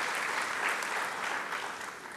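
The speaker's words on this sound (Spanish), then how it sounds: "Para todos ellos también un fuerte aplauso" Audience applause at a national congress on accreditation and competency assessment in Peru, a steady dense clapping that fills the whole moment at even loudness, fading slightly toward the end.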